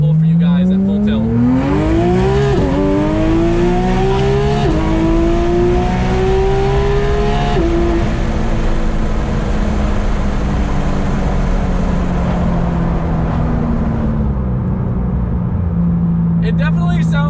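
A Porsche GT3 RS making a full-throttle acceleration pull: a loud engine climbing steeply through several gear changes, each shift dropping the pitch briefly, then a long sustained high drone easing down at the end amid wind noise, with a voice talking over it.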